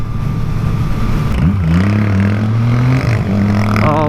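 Motorcycle engine revving hard during a wheelie attempt out on the street, a loud close roar with pitch rising and dipping as the throttle opens and closes over steady traffic noise.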